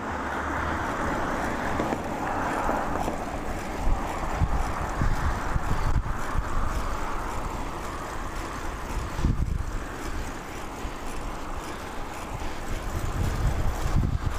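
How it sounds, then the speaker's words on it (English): Wind buffeting the microphone while cycling into a headwind on a country road, a continuous rumbling roar with gusty swells throughout, loud and close, with no talking. "Hope the wind isn't gonna be too fierce."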